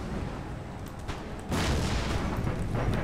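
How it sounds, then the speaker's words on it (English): Howitzer artillery fire on a battlefield in Empire Total War, a steady low rumble of distant booms that jumps louder halfway through and stays dense and continuous. "let's get my howitzers to hit the line."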